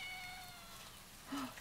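A cat meowing outdoors on a street, a short faint mew near the end of the clip under soft ambient noise and faint tonal sounds.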